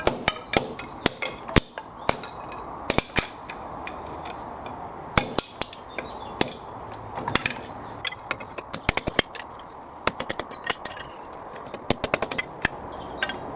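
A Roughneck 1.1 kg kindling splitter is struck over and over to split timber cladding offcuts, giving sharp, uneven hammer blows and clacks, some in quick bursts, over a quiet background.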